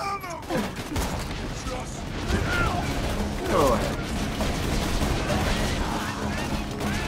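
Rapid bursts of gunfire in the co-op shooter Borderlands 2, firing repeatedly over busy game effects and a steady background, with players talking and laughing throughout.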